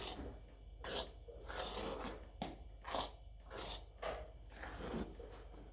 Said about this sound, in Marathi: आपण त्याच्यामध्ये उरलेलं बेसन पीठ टाकून घेणार आहोत ते भाजून घेणार आहोत